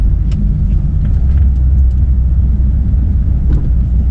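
An older Toyota sedan on a test drive gives a steady, loud, low engine and road rumble throughout, with a few faint clicks and no talk over it.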